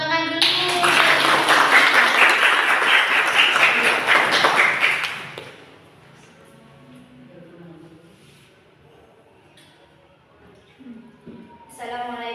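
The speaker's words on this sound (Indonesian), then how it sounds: "Tepuk tangan dulu." Classroom audience clapping for a student group about to present, a loud burst of applause lasting about five seconds before it fades, followed by quiet talking.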